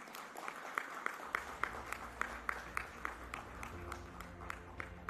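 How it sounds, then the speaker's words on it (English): A conference audience applauds the host country, Sri Lanka, with soft, distant clapping and distinct rhythmic claps standing out over a low hall rumble, fairly faint throughout. "another huge round of applause for the Vice President, Chair, and the host country"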